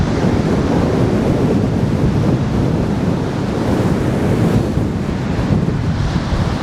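Large surf rolls in under strong wind during an orange-alert windstorm in Benidorm, with a dense, continuous roar of waves and heavy wind buffeting the microphone throughout.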